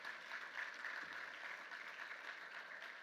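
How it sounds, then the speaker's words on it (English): An audience at a high-level opening session claps in welcome as a Rwandan agriculture minister joins, a soft, distant, even patter of applause lasting a few seconds. "Can we give him another round of applause, please, ladies and gentlemen?"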